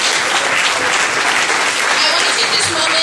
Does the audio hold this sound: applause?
yes